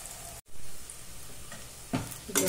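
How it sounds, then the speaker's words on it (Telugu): Bitter gourd slices fry in a pan over a medium flame, with a steady soft sizzle broken by a brief dropout and a few louder stirring scrapes near the end. "అట్లా పెట్టి వేగనిద్దామండి. మన స్టవ్ అయితే మీడియం ఫ్లేమ్లోనే ఉంది."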